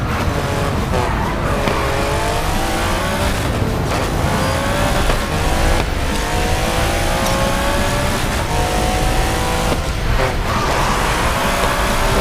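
Aston Martin Valhalla prototype, a 1064 hp hybrid supercar, screams through the gears in the Racing Master video game, a loud continuous engine roar with rising revs, repeated upshifts and a tyre skid, with no talk over it.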